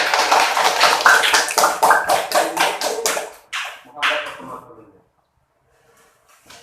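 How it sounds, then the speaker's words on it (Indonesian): Classroom of students clapping for a presenter: a burst of rhythmic, evenly spaced claps that thin out and stop, followed by near silence. "Tepuk tangan Manda kalau telah berani."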